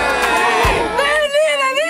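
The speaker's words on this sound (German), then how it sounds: "Und jetzt alle einmal jubeln." Children at a football fan evening in Bruneck cheer together, a loud burst of overlapping whoops and high shouts, with one bellowing voice rising above the crowd near the end.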